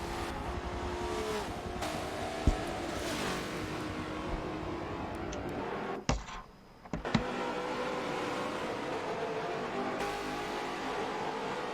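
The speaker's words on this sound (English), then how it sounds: "That Nissan Altima just pulls on the straightaways." A Nissan Altima V8 Supercar racing down the straightaway at Road America, a steady loud engine roar sustained throughout with a brief gear-change dip midway before the note resumes at full power.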